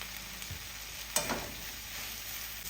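Spinach sizzles and wilts in a hot pan, a steady close frying hiss broken by a brief clatter of stirring, with no talking.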